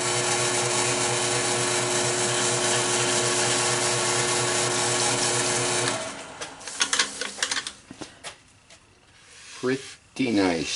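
Spalted silver maple spinning on a wood lathe gives a steady, loud mechanical whir for about six seconds, then cuts off, leaving scattered knocks and someone speaking.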